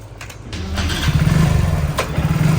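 A motorcycle engine cranks briefly, then catches and settles into a loud, close, steady idle with no speech over it.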